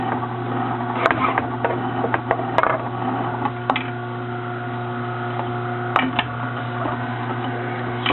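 A juicer machine juicing a Granny Smith apple runs with a steady, loud electric motor hum, punctuated by a few brief clunks and grinding bursts as the fruit feeds through.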